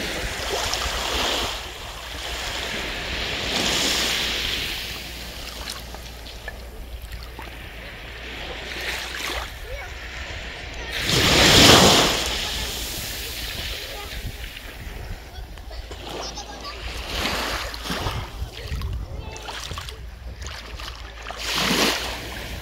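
Cold sea water washing and splashing around a small boat among icebergs off Norway, with steady wind noise on the microphone and occasional louder surges, and people talking at times.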